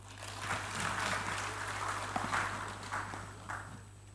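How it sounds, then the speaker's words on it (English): Audience applause at a business summit in Ghana rises as a dense patter of clapping that holds steady and then gradually thins, heard over a constant low electrical hum. "A round of applause for them."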